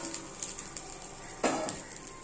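Neem flowers tossed into popped mustard seeds and stirred in a pan, a soft sizzle with light clinks of a spoon and one brief scraping clatter, faint and close.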